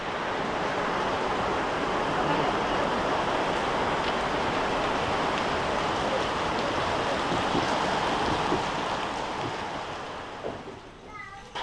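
Steady, dense hiss of heavy rain pouring continuously, easing slightly near the end.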